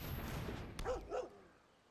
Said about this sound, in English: Hello, puppy.